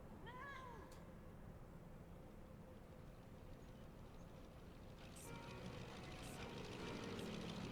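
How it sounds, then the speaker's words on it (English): A cat in Final Fantasy XIV gives a short, rising meow right at the start. It sits fairly faint over a steady game hum that fills the rest of the clip. "There's a cat."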